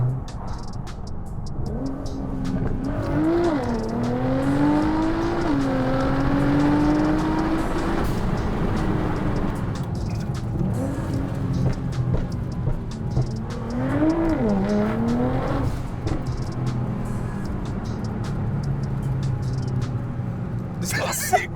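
A Liberty Walk Nissan GT-R, rated at 690 bhp, revs through an FI aftermarket exhaust, its deep engine rumble rising and falling in two swells, with people talking over it throughout.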